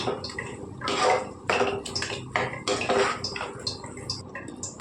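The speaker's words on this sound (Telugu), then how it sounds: "గ్రేవీ వేసేసుకుందాం ఇందులోకి. వేసుకొని బాగా కలిపేసుకుందామండి." Gravy paste being added to hot oil in a pan and stirred for a chicken capsicum curry, with repeated metallic scrapes and clinks of a spoon against the pan over a faint sizzle, close up and irregular.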